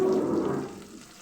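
Chopped onion, garlic and green chilli sizzle in hot mustard oil, a brief, steady hiss that slowly fades, with no talking.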